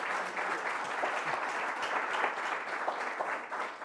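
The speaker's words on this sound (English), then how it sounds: "I think she deserves a good round of applause." Applause from an audience at a historical society meeting after a presentation, a steady wash of many hands clapping together that stays even and sustained throughout, with no talking over it.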